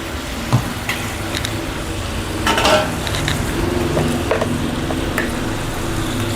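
Turmeric is sprinkled over chicken liver and onions frying in a pan, giving a continuous moderate sizzle with a few sharp utensil clinks and stirring scrapes.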